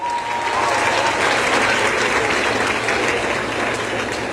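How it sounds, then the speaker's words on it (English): Students at a school event clap together, a loud, sustained burst of crowd applause filling the room evenly from start to finish. "Can you clap for yourself?"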